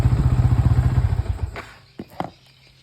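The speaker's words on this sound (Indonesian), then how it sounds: "Kita matikan dulu motornya." Yamaha Vixion motorcycle engine, an older model with a faulty over-voltage regulator, idles with a close, steady pulsing throb, then shuts off after about a second and a half, leaving a few light clatters and thumps in near silence.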